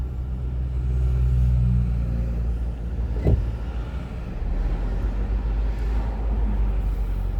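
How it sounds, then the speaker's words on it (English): A car slowing at traffic lights: a steady, moderately loud engine and road rumble that eases slightly, with a brief thump midway. "Okay, that car's slowing down."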